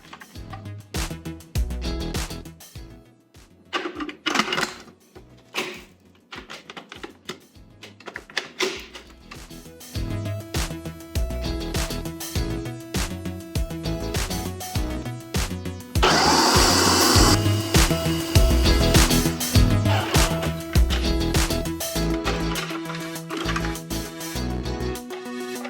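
A kitchen blender whirls a beet and garlic bean dip with salt and pepper, starting in short choppy pulses and then running into a loud, sustained high-pitched roar near the end.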